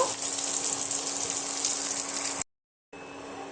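Eggs fry with turmeric in a pan, giving a loud, continuous close sizzle that cuts off abruptly into a brief silence before a softer hiss resumes.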